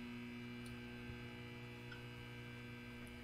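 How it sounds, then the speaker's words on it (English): Steady electrical mains hum and buzz from a Backrooms-style scene, a constant droning tone with no variation, filling the space without any voices. "So we got the humming noise."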